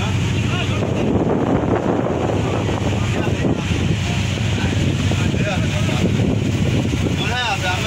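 A ship cruises across Tanguar Haor wetland with steady wind buffeting the microphone, a constant broadband rush of engine and water noise throughout, with occasional voices faintly under it.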